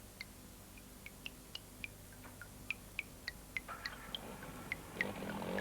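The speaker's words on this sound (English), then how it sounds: "Oh, it's just a tap dripping." Small water drops plink one after another in a quiet room, irregular but steady, each a short bright tap against faint background hiss.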